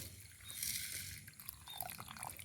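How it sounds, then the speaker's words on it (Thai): Water is poured over sticky rice in a container to soak it for rat bait, a soft, steady trickling and splashing heard close but fairly quiet for a couple of seconds. "แค่นี้นะครับแล้วก็เทน้ำลงไปครับ"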